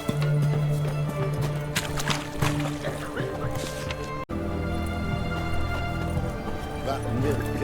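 Roach, the horse in The Witcher 3, clip-clops with steady hoofbeats that continue throughout, mixed with game sounds and voices.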